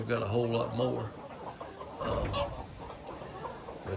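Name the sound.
chickens clucking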